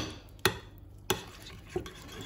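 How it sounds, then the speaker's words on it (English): Yogurt being mixed into coriander chutney in a bowl, heard as three distinct scraping or tapping strokes spaced roughly half a second apart, close and fairly quiet with no talking. "I'm gonna add the yogurt to this and mix it all together."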